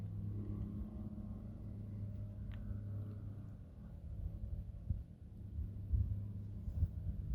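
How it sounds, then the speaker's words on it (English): 4x4 vehicles crawl slowly up a steep canyon road in Canyonlands, heard as a faint, distant low engine rumble that swells slightly toward the end. "some of those vehicles make a lot of noise"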